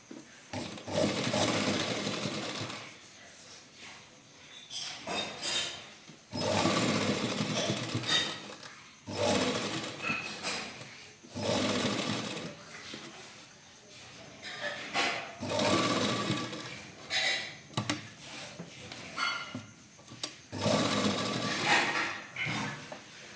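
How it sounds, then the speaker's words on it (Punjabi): A sewing machine stitches lace onto a garment neckline in a series of fast, whirring runs several seconds long, separated by short pauses, steady and close. "ਆਪਾਂ ਇਸੇ ਤਰ੍ਹਾਂ ਬਿਲਕੁਲ ਆਪਾਂ ਨਾਲ ਨਾਲ ਸਲਾਈ ਲਾਈ ਜਾਣੀ"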